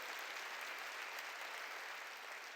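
A church congregation applauds during a New Year's Eve worship service, steady dense clapping filling the room for a few seconds with no voices over it.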